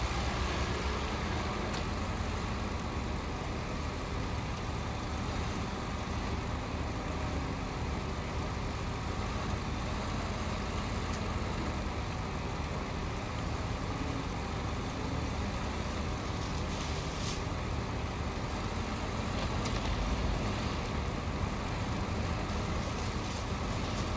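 A log truck drives on a rough forest track, its engine droning steadily under continuous road and chassis rumble, with no voices.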